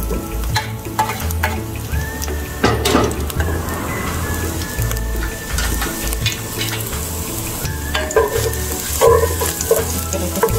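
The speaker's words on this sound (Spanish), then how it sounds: "Vamos a echarle un poco de aceite, ya que vamos a sofreír todo lo que acabamos de picar. Vamos a echar nuestro ajito." Garlic sizzles in hot oil in a clay pot, a steady dense crackling fry with occasional stirring scrapes and clinks, close and fairly loud throughout.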